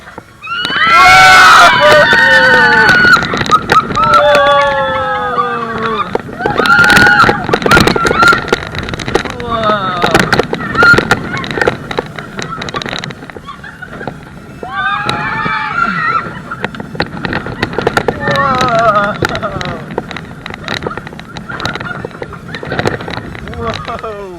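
Riders on the Falcon roller coaster at Duinrell scream over loud, buffeting wind rush and rumbling track noise throughout the ride.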